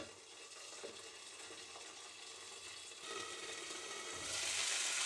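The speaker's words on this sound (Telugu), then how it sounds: "నేనైతే మంటను చాలా తక్కువలో పెట్టి ఫ్రై చేస్తున్నాను" Okra frying in a covered pan over a low flame gives a steady, soft sizzle throughout, swelling a little brighter near the end, with no voices.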